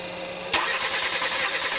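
Hyundai Accent engine cranking but not starting: a sudden onset of rapid, rhythmic mechanical churning from the starter that continues steadily for over a second without catching, close and fairly loud with no voices.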